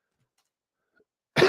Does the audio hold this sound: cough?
yes